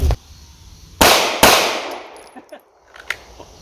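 Two sharp, loud handgun shots fired from a holster at an outdoor range crack about half a second apart, each ringing out briefly before fading into quiet with a few faint clicks.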